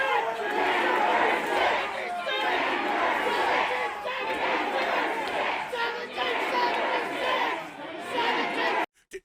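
A large crowd of about 500 people at a political rally in Wyoming, a dense wash of shouting and chatter that stays loud and steady throughout, then cuts off abruptly at the end.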